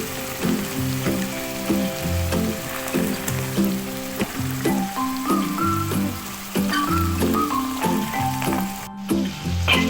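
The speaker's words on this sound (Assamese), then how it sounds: "এতিয়া এইখিনিতো প্ৰায় 10-15 মিনিটমান ফ্ৰাই কৰি ল'ম মিডিয়াম ফ্লেমত" Peas and potatoes fry in oil over a medium flame for a ghugni-style matar sabji, a steady close sizzle and crackle running throughout the clip with no talk.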